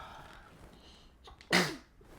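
A single sharp sneeze bursts out loud and close after a quiet stretch with faint background noise.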